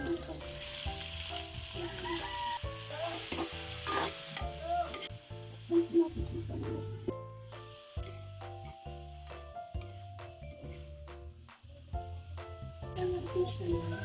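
Garlic, onion and pepper sautéing in a pan while bitter gourd with egg is cooked, a steady sizzle and hiss with frequent stirring and scraping clatter throughout, close and moderately loud, with no talking.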